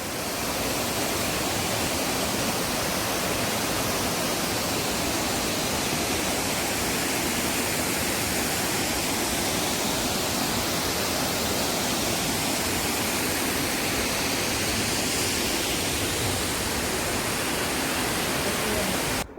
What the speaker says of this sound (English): Sound of the waterfall makes perfect melody with chirping of the birds.